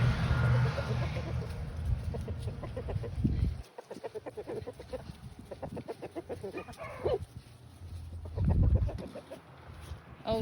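Laying hens in a farmyard coop cluck and chatter on a cold December morning. The calls come close and overlapping in irregular bursts, and a person's voice briefly breaks in.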